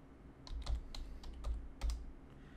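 Faint keystrokes on a computer keyboard as a password is typed for an npm login, a few soft clicks in short bursts over a low hum.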